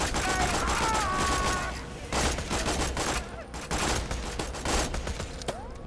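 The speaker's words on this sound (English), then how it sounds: "This is a burst fire, it seems." Burst-fire gun shots ring out in Borderlands 2, with rapid clustered volleys of shots repeating through the clip amid busy game effects and occasional speech.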